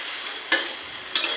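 Onions, slit green chillies and garlic-ginger paste sizzle steadily in a pan as they fry, with two sharp scraping stirs of a spatula standing out above the constant hiss.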